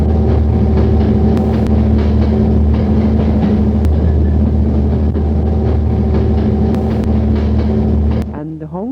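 A passenger train rumbles along steadily with a loud, continuous mechanical drone and humming tones, easing off slightly at the very end.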